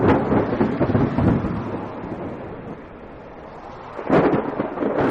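Rain falls in a jungle while thunder booms, one heavy rumble at the start and another loud crack-and-roll a few seconds later, with a steady patter of rain between them.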